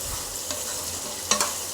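Tomato and green chilli frying in a pan for chutney, with a steady sizzle, soft stirring scrapes and a couple of sharper clinks near the end.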